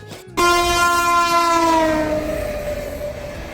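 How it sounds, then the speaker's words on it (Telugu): A train sounds a long, loud horn close by while passing a closed railway level crossing in a village area, the steady blast then fading slowly as the train rolls on. "ఇక్కడ ట్రైన్ వస్తుంది అని గేట్ వేశారు."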